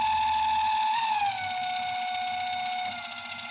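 Geared electric motor of a dough mixer running at its top speed of 250 RPM, a steady whining hum that dips slightly in pitch and then holds, close and fairly quiet with no talk.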